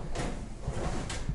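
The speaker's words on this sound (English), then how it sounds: "And soft closed drawers at that." Soft-close oven drawers in a 2023 Crusader 382MBH camper sliding shut, two soft muffled closing thumps spaced about a second apart, close by with no talking.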